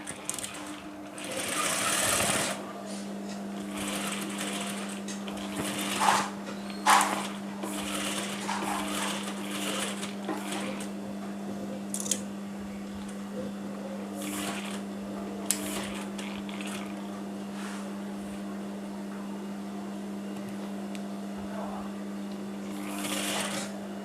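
A sewing machine hums continuously up close for over twenty seconds while a fashion sleeve corner is stitched down, with intermittent clicks, fabric rustles and handling knocks layered over the steady motor drone.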